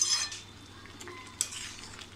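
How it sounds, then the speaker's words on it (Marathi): A spoon stirs milk as it reduces in a pan for carrot halwa, giving soft scraping and occasional light clinks against the metal, faint and close, with no voices. "असं सतत आपल्याला मध्ये मध्ये असं ढवळत राहायचं आहे."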